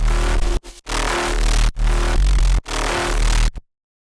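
Heavy electronic bass whose low end is sidechain-compressed to the kick, pumping loudly in repeated ducking cycles with brief gaps on each kick hit, no voices present.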